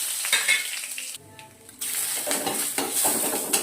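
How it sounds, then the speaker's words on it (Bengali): Whole spices such as black cumin, cardamom, cloves, cinnamon and bay leaf hit hot oil in a pan, a close bright sizzle and crackle broken by a short pause before the frying resumes steadily. "এর মধ্যে আমি এই ফোড়নটা দিয়ে দিলাম।"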